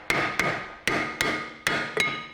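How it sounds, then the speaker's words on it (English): Six crisp metallic hammer taps on a Kia Sportage brake disc during a brake job, fairly light and evenly spaced, each ringing briefly before the next strike, with no talking. "Now we can get the hammer and gently, you don't want to do it hard"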